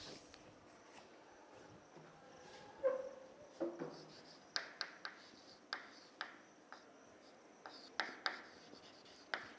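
Someone writing out a structural engineering problem on a rectangular concrete beam by hand, producing faint scratchy pen strokes and soft taps in a quiet room, with the strokes growing more frequent toward the end.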